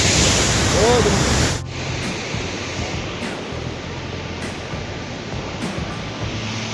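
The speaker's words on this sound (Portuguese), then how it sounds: "E hoje viemos gravar para vocês essas duas cachoeiras aí" Loud, steady roar of two waterfalls swollen after floods in Rio Grande do Sul, a broad continuous rush of water that drops slightly after a moment and then holds even and close throughout.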